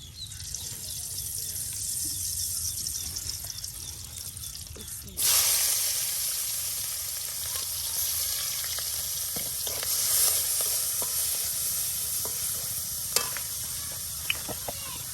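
Hot oil hisses and sizzles in a pan in a village kitchen while fish curry with potato and tomato is cooked, the frying growing suddenly louder partway through and carrying on steadily with scattered pops and stirring clinks.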